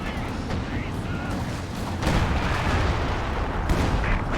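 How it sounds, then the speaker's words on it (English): An artillery barrage in the Company of Heroes 2 strategy game lands as a dense run of booming shell impacts and explosions, heavy and continuous, growing louder partway through, with commentary spoken over the top. "The busting barrage coming in for the Brumbier."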